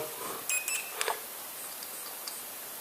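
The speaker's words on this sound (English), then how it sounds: "oh yes, it's beeping" A few faint, high electronic beeps from an Eachine Wizzard X220 sound in quick pairs over a soft hiss, then one more thin beep after a pause.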